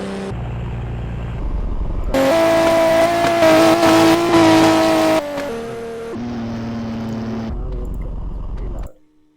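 A heavy car's engine drifts in the Roblox racing game Redline Drifting, revving loudly and holding steady tones that jump up and down as the gears shift between second and third, with a sustained roar that cuts off at the end.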